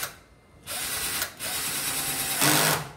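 A cordless screwdriver driving screws into wood while a kitchen countertop is turned into a bedroom dresser, heard as two sustained whirring runs with a short pause between them, close and loud.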